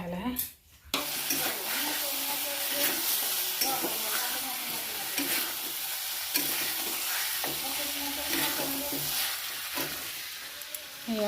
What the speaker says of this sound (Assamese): এয়া মাছ ভাজি কৰিলোঁ